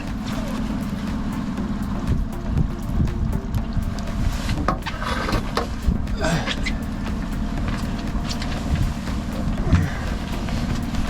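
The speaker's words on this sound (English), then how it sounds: "We've got a following wind now" Steady wind buffets a boat on open water during salmon fishing near Juneau, Alaska, a continuous rushing roar with low rumble and a few louder gusts and knocks throughout.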